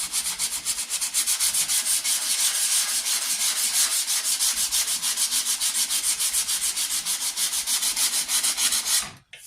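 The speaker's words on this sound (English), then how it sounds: "Let's blend it in with some sandpaper. We'll start with 120 grit, and I'm gonna work my way up to about probably 300." Steady back-and-forth rasping of 120 grit sandpaper worked over a wooden Hawken rifle stock for a .50 cal St. Louis Hawken, close and loud with quick rhythmic strokes, stopping abruptly at the end.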